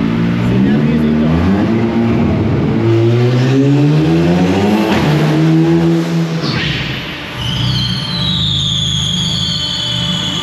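Volkswagen GTI with a new engine map making a dynamometer pull, engine revving hard through rising gears with loud climbing tones, then easing off as a high whine lingers; people talk over it.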